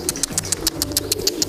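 A racing pigeon coos in a loft, close and clear, with a quick series of rhythmic coo pulses and soft wing or body rustles over just under two seconds.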